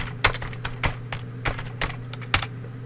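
Close, quick keystrokes on a computer keyboard as a command is typed, a run of irregular clicks with short pauses and no voice.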